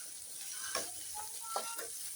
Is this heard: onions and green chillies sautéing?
yes